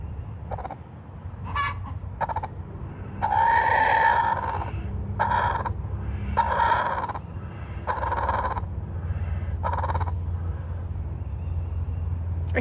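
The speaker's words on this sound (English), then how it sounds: "Big Bird, there's some weird sounds coming out of you today." A chicken makes odd honking, goose-like calls in a run of separate squawks, some drawn out, close and loud over a steady low hum, with no talk.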